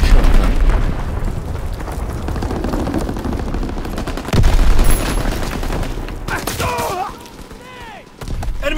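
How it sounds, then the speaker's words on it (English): Gunfire and blasts from the World War II shooter Call of Duty WW2, with a heavy boom near the middle and another near the end, set over a dense, continuous battle din with shouted voices and chatter. "Enemy bomb incoming!"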